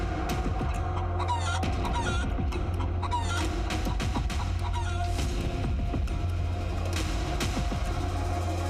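Many chickens cluck continuously at a poultry farm in Rampur, Uttar Pradesh, hit by a bird flu outbreak, a dense flock chorus with scattered sharper calls over a steady low hum of machinery.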